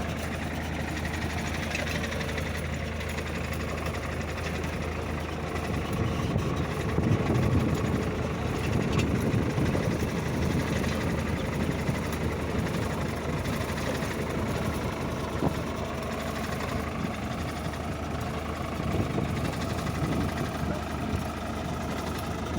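A tractor pulling a turmeric planting machine runs steadily in a farm field, its low engine drone and rumble continuous and fairly loud throughout, with no voices.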